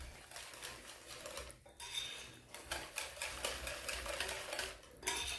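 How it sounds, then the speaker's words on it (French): Almonds and peanuts stirred into cake batter in a bowl, a continuous scraping and clinking of utensil against the bowl with brief breaks, close and moderately loud. "Je commence par les amandes et les arachides. Je les incorpore au mélange."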